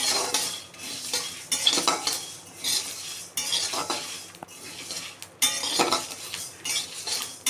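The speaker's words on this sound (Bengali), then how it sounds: "একটু নেড়ে চেড়ে ভেজে নেব।" Coriander seeds and cumin dry-roasting in a pan for homemade spice mix, stirred with a spoon: repeated close scraping and rattling strokes with light clinks, no talking.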